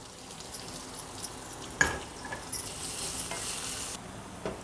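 Green chilies and garlic cloves fry in hot oil for a dal gravy, a soft steady sizzle with a sharp crackle as they land and light scraping strokes after.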